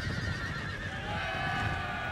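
Cavalry horses whinny amid battle noise in Napoleon Total War, the neighs rising over a dense rumble of hooves and clamor throughout.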